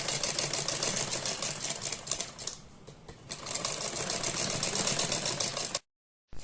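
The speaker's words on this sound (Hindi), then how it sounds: "अब हम अपने गले पर सिलाई लगाते हैं। बुकरम पर सिलाई नहीं लगानी है" A sewing machine stitches around the neckline of a garment beside the buckram, a steady fast mechanical rattle running close and continuous, easing briefly midway before resuming and then cutting off.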